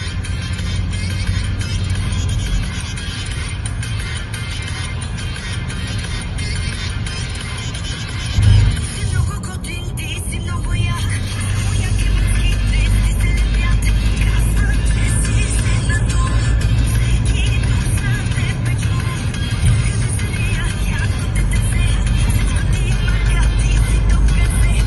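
A car cruises steadily at about 50 km/h, its engine and road noise forming a continuous low rumble from inside the cabin, with a brief bump around the middle and a slightly heavier drone later on.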